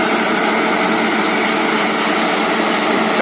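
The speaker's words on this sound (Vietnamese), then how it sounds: "Và sử dụng máy phát điện chạy sử dụng động cơ diesel." A diesel generator powering the conveyor motors and vibrating screen at a stone-screening site drones loudly and steadily, close by, with a constant buzzing mechanical hum and no breaks.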